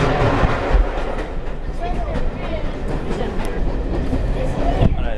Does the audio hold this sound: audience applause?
no